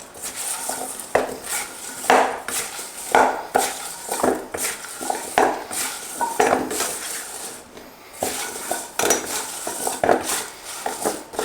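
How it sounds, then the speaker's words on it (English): Sweet potato pieces tossed in a bowl to coat them, a steady run of clinks, scrapes and knocks of utensil against the dish, close and fairly quiet with no one talking. "We're going to just toss them around a little bit, get them evenly coated."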